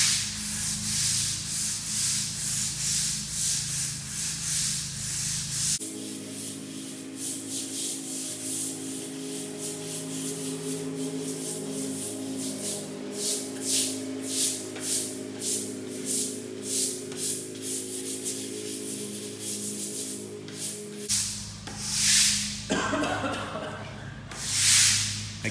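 Stiff-bristled scrubbing of a concrete floor being cleaned with citric acid cleaner to prep it for epoxy, a steady close rasping brush sound that keeps going throughout with rhythmic strokes and a hum beneath.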